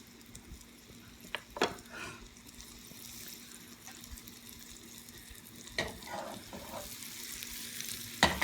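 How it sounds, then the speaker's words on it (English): Coated mushrooms sautéing in a pan: a quiet, steady sizzle with a few scattered louder knocks and scrapes as the pieces are moved around, close by and with no talking. "So they get sauteed real nice."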